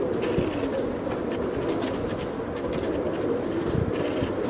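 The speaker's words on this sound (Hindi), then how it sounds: "आपको नायाब कबूतर दिखा रहे हैं कसूरी कबूतर माशाल्लाह देखिए जो अपने असल हालत में" Kasuri pigeons, a red-eyed breed from Kasur, coo in low repeated throaty calls over a steady background hum, with several birds overlapping at close range.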